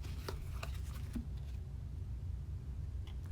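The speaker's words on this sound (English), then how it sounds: "Let me just do one more shuffle." Tarot cards being shuffled by hand: a few soft, quick riffling clicks early on, then a quiet low hum with faint rustles toward the end.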